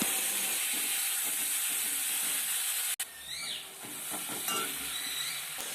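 Ripe tomato paste hitting hot oil in a wok with dried chillies and whole cumin, a loud steady sizzle and hiss after a brief dropout, with faint stirring scrapes close by.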